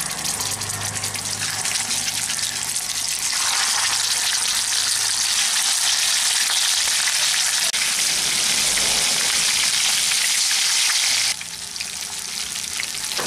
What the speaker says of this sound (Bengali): এখন এই মাছের পিসগুলো ভাজার জন্য দিয়ে দিলাম।